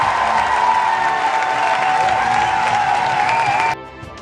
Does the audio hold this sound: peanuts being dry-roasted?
no